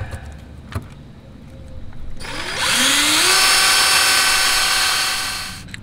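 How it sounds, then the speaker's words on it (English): A power drill bores holes for a camper battery disconnect switch on a Jayco Hummingbird 10RK, revving up suddenly into a loud, steady whine for a few seconds before easing off. "And go ahead and drill my lower holes."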